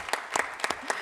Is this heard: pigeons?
no